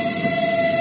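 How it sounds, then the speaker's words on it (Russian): A suburban electric train's horn sounds as one sustained, steady electronic tone, fairly loud and close, held over a background of rail and street noise. "Электричка"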